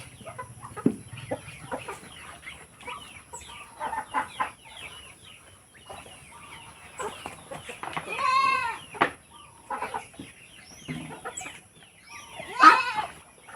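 Farm chickens cluck and squawk at feeding time in irregular close bursts, with one louder drawn-out cry rising near the end and quiet gaps between.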